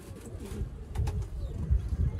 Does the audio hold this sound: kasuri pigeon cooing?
yes